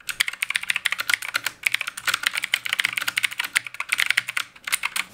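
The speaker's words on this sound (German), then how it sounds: "Bei einer mechanischen Tastatur hingegen ist jede Taste ein eigener Schalter, der beim Drücken aktiviert wird und ein Signal erzeugt." Fast, steady typing on a mechanical keyboard, each keystroke a crisp click heard close and alone in quick bursts with brief pauses.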